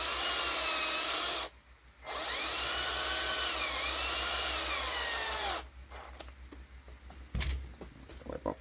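A power driver spins a screw into a plastic part of a Losi 22S drag RC car during front-end assembly, a loud whining buzz in two bursts, followed by faint clicks and handling sounds.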